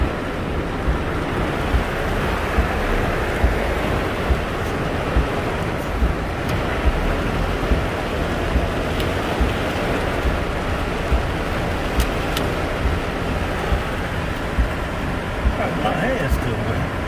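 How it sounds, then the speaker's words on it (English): Heavy summer rain pours outdoors during a thunderstorm in Ohio, with wind adding to the steady, dense hiss. The downpour is loud and continuous, with small taps and splashes scattered through it. "It's raining, heavy rain."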